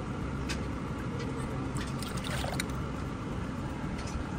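A cup of milk poured into a mixing bowl of muffin batter ingredients gives a soft, steady liquid trickle and splash for a few seconds, close and low, with no voices.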